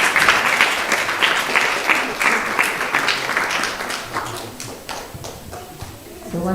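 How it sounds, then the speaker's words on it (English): A temple gathering at a baby's first-rice ceremony applauds the couples and children. The clapping is lively and continuous and gradually tapers off, with voices chattering underneath. "Big round of applause for both the couples and the children"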